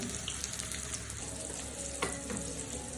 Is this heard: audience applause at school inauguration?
no